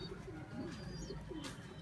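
Banjara pigeons, also called Kanchuche pigeons, coo softly and repeatedly in a low, rolling rhythm, fairly close, with a few faint chirps of other birds in the background and no talking.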